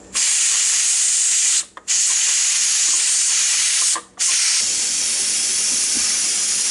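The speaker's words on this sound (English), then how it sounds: "it's still got a lot of steam in this pot" Loud, steady high-pitched hiss of steam escaping a pressure cooker cooking beef short ribs, broken by two brief pauses before continuing.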